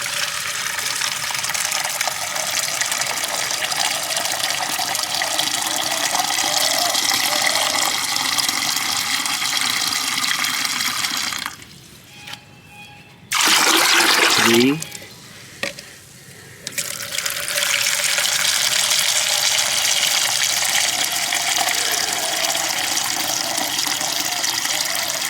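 Water pours into a mustard cake liquid fertilizer mix, a loud, continuous gushing splash that keeps running, breaks off briefly near the middle with a short burst, then resumes until the end, with no talking.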